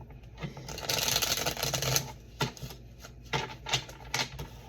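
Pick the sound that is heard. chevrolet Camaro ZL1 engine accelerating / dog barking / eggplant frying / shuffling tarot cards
shuffling tarot cards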